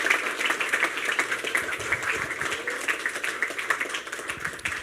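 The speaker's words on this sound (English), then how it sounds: "a round of applause for our judges and for the student assistants" An audience at a business school awards night applauds the judges and student assistants, steady clapping from many hands sustained for several seconds at moderate distance.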